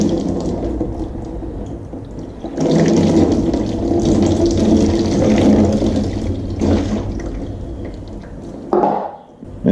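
Clean water poured and splashing over motorcycle front brake caliper pistons during cleaning, a loud continuous rushing spatter that swells and dips before a brief pause near the end.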